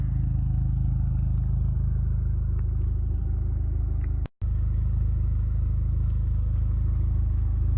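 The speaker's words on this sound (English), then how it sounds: "There she is idling." A Dodge SRT-4 with an engine idling, steady low rumble with slight clatter, close and constant, with one brief dropout partway through.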